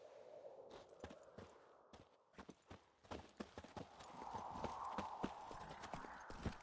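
Roach, Geralt's horse in The Witcher 3, clip-clops along at a steady walk, hoof strikes close and distinct over a soft ambient bed of wind and game atmosphere.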